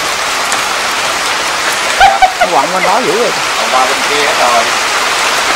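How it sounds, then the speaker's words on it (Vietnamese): Heavy rain falls in a dense, constant roar close by, while someone speaks briefly partway through over the downpour. "Mà bị trời mưa quá."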